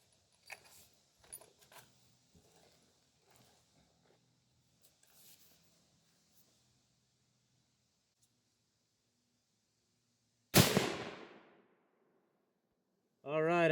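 A rifle fires a .270 Winchester DRT 117gr cartridge with one sharp, loud gunshot that rings out and decays, followed by a second loud burst, after faint handling clicks and quiet movement.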